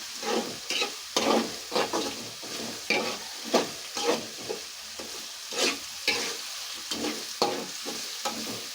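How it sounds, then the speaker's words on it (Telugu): Curry leaves and green chillies frying in a pan are stirred with a spoon, sizzling oil under repeated scraping strokes in an uneven rhythm, close and fairly loud with no talking. "ఇందులోనే కరివేపాకు పచ్చిమిరపకాయలు కూడా వేసేసుకుందాం ఒకసారి కలిపేసుకున్నామండి"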